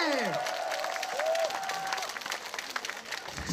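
Applause and cheering from a concert audience at an outdoor festival performance by a singer, a dense crowd sound with whistles and shouts that fades slightly toward the end.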